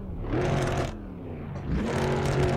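A BMW E36 in the racing game Assetto Corsa, fitted with a swapped-in engine sound from another car, revs hard on a snowy drift road: a loud, close engine roar climbs, drops away briefly, then surges again and holds, alone without speech.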